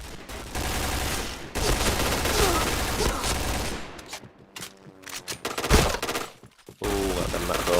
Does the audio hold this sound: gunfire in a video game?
yes